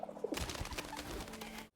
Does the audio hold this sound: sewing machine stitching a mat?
no